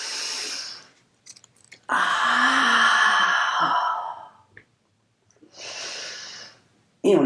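Heavy, forceful exhalations during an abdominal floor exercise, several long breathy blasts separated by pauses, close and loud with no talk.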